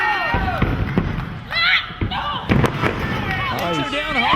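A hard thud of a wrestler being slammed down onto the ring mat during a women's pro wrestling match, with crowd noise and voices heard throughout.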